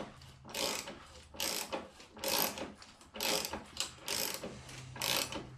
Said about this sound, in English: And then cut new threads.